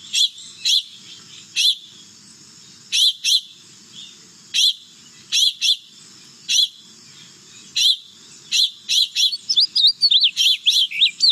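Recorded bird alarm calls played back, a series of sharp, loud high-pitched chirps in irregular bursts, quickening into rapid repeated notes toward the end.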